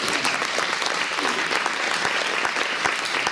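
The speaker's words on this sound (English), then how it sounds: "I want a round of applause for everybody who's contributed." Sustained, fairly loud applause from a luncheon audience at an Older American Month kick-off event, dense clapping from many people throughout.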